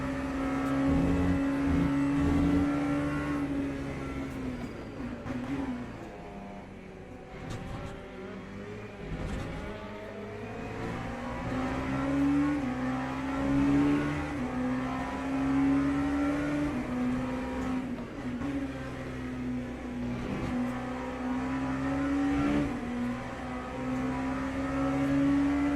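LMP3 and GT3 race cars lap at Le Mans in the Le Mans Ultimate racing game, their engines droning loudly and continuously with rising revs and repeated gear shifts over the whole stretch.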